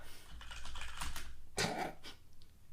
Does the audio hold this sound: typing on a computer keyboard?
yes